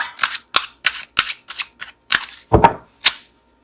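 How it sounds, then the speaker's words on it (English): A series of crisp, rapid riffling bursts of tarot cards being shuffled, about eight distinct flutters in quick rhythm, close and fairly loud with no talking. "I'm just shuffling them again just to make sure that they get shuffled well"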